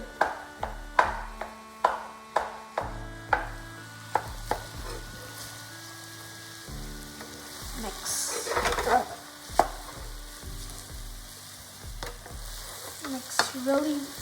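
Egg fried rice stir-fried in a pan, a spatula repeatedly chopping down through the rice with sharp rhythmic clacks over a steady sizzle, with a busier burst of scraping and frying midway.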